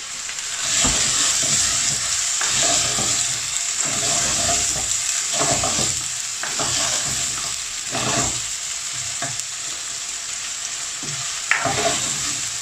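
Chopped Dutch onion fries in ghee and oil on high heat for a mutton dish, a loud steady sizzle broken by repeated stirring scrapes and clatters, with no talking.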